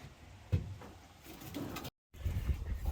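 Pigeons cooing softly inside a loft, low murmuring coos rising and falling over faint rustling, with a brief gap near the end.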